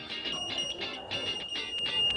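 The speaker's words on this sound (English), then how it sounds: "the buzzer goes off" Small buzzer on a homemade obstacle-detecting walking aid circuit for the blind, giving a faint, high, steady electronic tone with soft pulsing, heard quietly at close range.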